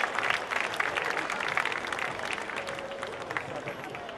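Audience at an evening festival event breaking into steady, sustained applause, many hands clapping in a dense, even wash from start to finish.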